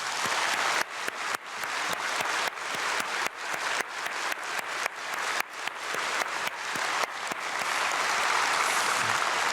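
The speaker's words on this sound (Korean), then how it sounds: "우리 박수로 다시 한번 축복하겠습니다" A church congregation at a dawn prayer service applauds in a long, dense wash of clapping with sharp accents scattered throughout, steady and sustained for several seconds.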